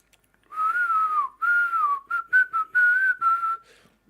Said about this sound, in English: I had to whistle that out, Mac Attack, or I was never gonna get it done.